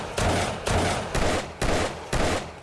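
A handgun is test-fired in 7 Days to Die, giving five loud, evenly spaced gunshots about half a second apart, each followed by a short echoing tail.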